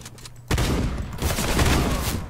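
Shotgun fire in the video game CS:GO, a sudden loud blast followed by a dense burst of rapid gunfire filling the rest of the short clip.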